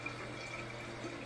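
Water trickles and drips faintly inside an old toilet tank that is still leaking, a soft steady close patter with no voices.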